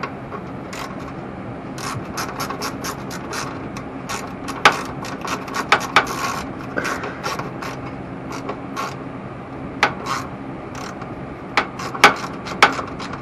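A ratchet working stubborn H4 screws on a Honda Goldwing motorcycle, steady rapid clicking pawl runs with occasional louder knocks and creaks, close and alone.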